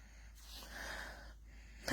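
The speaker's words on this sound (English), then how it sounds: "I could sit here sniffing that napkin forever" A few soft, close nasal sniffs of a perfume-scented napkin, breathy inhalations separated by short pauses, quiet and near.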